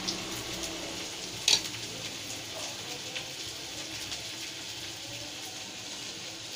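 Onions frying in oil in a pan make a faint, steady crackling sizzle with a few brief louder pops.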